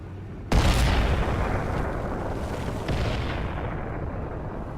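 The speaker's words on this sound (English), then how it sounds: "seems to be like a lot of random artillery" Artillery fire in World of Tanks during a KV-1 battle: one sudden loud booming blast followed by a long rumbling roar, then a second softer thump about two seconds later, with no talk.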